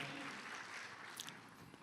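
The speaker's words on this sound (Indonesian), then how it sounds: "Mari sekali lagi beri tepuk tangan sorak-sorai bagi Tuhan kita" Applause and cheering rise from a church congregation during a service, a steady wash of clapping heard at a low, distant level.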